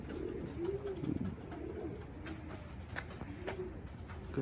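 Pigeons coo in soft, rolling phrases, several calls in a row, close by against a faint background hiss.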